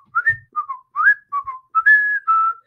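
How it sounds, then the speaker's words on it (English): A person whistles a short melodic tune, a clear, close sequence of bright sliding notes in quick phrases with brief pauses between them, heard alone. "Mustafa whistles."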